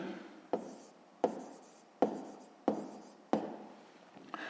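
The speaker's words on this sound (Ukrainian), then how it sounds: "Записуємо." A pen writes a maths answer on paper in five regular, close strokes roughly every 0.7 seconds, each a short scratchy burst that fades before the next, in a quiet room with no talk.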